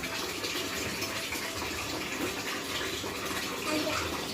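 Tap water runs steadily and gushes while a child washes something beneath it, a continuous close splashing hiss with small irregular bursts throughout.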